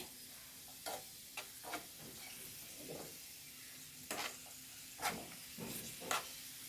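Fried cashews and raisins tipped into a pot of wheat payasam, giving a faint sizzle and hiss with a few soft stirring scrapes and clinks, quiet and close with no talk.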